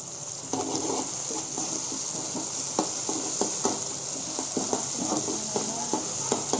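Chopped tomatoes sizzle steadily in a hot pan for a traditional snail masala, with repeated scraping and stirring strokes of a spoon against the metal, close up and continuous, with no talking.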